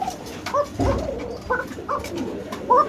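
Pigeons cooing in a loft among birds being sold, several close, repeated throaty coos in short bursts, with a few louder calls at intervals.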